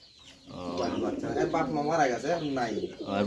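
Pigeons coo close by in a domestic loft, soft rolling throaty calls repeating in quick succession while a voice talks over them.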